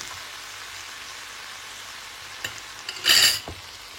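Sautéed seasonal vegetables with spices being stirred in a pan, a faint low sizzle under a few spoon taps and one brief louder scraping clatter near the end.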